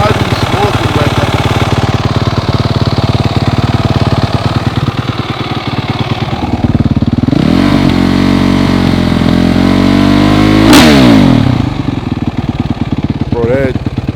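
A 2023 Suzuki RMZ-450 dirt bike in worn, clapped-out condition runs loud and close, its engine rumbling steadily with a couple of revs rising and falling near the middle.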